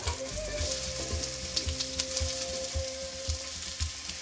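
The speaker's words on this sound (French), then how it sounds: "Et puis un petit peu d'huile d'olive, et toujours pareil, commence un peu par les oignons" Onions sautéing in a little olive oil give a steady close sizzle and frying hiss, with soft periodic thuds of stirring throughout and no talk.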